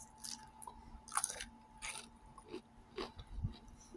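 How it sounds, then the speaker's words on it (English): Crunchy pickle being bitten and chewed up close, with several crisp crunches spread through a few seconds over faint background hum. "I love a good crunchy pickle."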